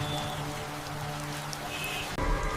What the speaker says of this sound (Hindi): बारिश की हल्की बूंदें उस पुराने शहर की गलियों में गिर रही थी।